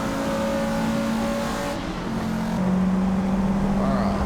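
All-wheel drive car in Forza Motorsport (2023), its engine holding a steady droning tone that steps up in pitch partway through, loud and continuous with no talking.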